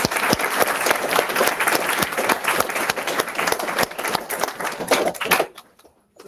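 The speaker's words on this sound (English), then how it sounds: "can we give a huge round of applause for them?" A room full of people at a tech meetup on LLMs and data streaming applauds loudly, with dense, steady clapping that carries for over five seconds and then cuts off abruptly into near silence.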